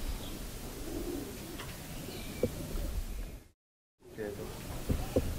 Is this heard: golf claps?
no